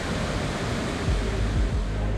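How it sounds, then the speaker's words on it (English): Victoria Falls on the Zambezi roars as a steady, dense wash of broadband noise, a continuous close rumble with no pauses and no voices. "This is Victoria Falls, among the most powerful waterfalls on the planet."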